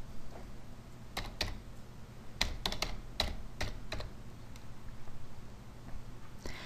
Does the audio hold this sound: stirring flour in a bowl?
no